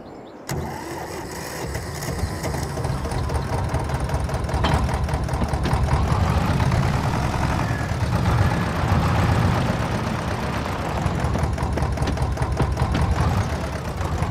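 A tractor engine in Farming Simulator 22 starts with a click, then runs at a steady, loud diesel hum with a mechanical whine, swelling slightly as it revs and settling again, with no voices.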